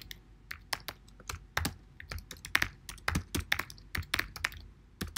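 Typing a web address on a computer keyboard produces quick, irregular clicking keystrokes, close and clear, speeding up into a dense burst toward the end, with no talking.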